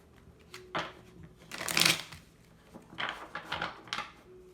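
Tarot cards shuffled and handled in bursts of riffling and sliding, with one louder, longer shuffle in the middle and several shorter card flicks and draws afterward, close up with no talking.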